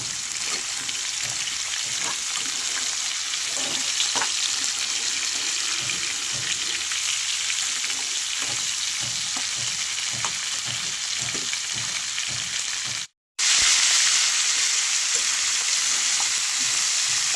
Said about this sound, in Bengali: সিম গাজর সব সবজিগুলো দিয়ে আমি নেড়ে করে নেব